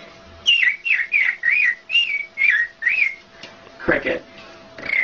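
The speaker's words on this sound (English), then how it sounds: "American robin." An American robin sings a run of about eight clear, whistled phrases in a steady rhythm, followed by a brief rougher burst and one more faint phrase.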